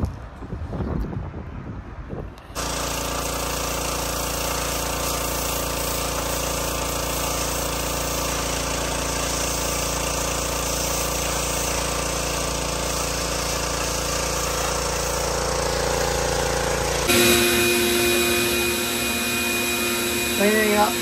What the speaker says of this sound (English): I'm starting to vacuum all the surface dust before I start scrubbing